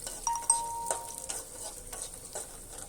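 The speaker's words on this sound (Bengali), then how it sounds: "হালকা হালকা ভেজে নেব। এখন লাড়াচাড়া দিয়ে দিচ্ছি।" Food fries lightly in a pan while being stirred, partway through cooking dal with dried fish: a faint, thin sizzle broken by a few soft scraping strokes, with no talking.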